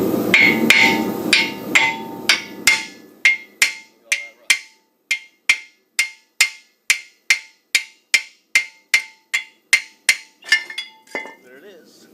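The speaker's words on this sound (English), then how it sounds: "sometimes you might have to bang it with a hammer" Repeated sharp metallic hammer strikes on a 2012 Toyota Venza front brake caliper bracket, about two per second in a steady rhythm, each ringing briefly, close and loud, after some initial clattering.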